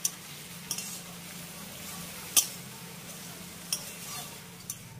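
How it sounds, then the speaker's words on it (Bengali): Masoor lentils and chopped long beans frying together in a pan give a low, steady sizzle, broken by a few sharp scrapes and clinks of a spoon against the pan. "এবার আমি সবজির সঙ্গে এই ডালটাকে খুব ভালো করে ভেজে নেব।"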